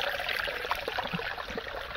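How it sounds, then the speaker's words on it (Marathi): A small waterfall by a hillside temple in Sangli pours in a continuous bright, splashy rush, close and steady, with no talking. "बारकासा धबधबा दिसते वाटतं."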